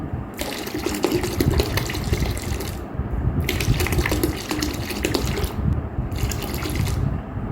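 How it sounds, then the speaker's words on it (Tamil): A steady stream of vinegar pours from a one-litre bottle into a container while mixing a homemade cleaning liquid, running loud and close for several seconds with a couple of short breaks before resuming. "இப்போ வந்து நானூறு கிராம் வினிகர் ஊற்றிக்கலாம்"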